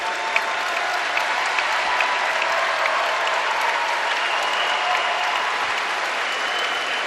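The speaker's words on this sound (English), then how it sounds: "Big Blue Nation giving a nice round of applause for the group" A basketball arena crowd applauds steadily as substitutes come on, a dense, even wash of clapping that holds for several seconds without pause.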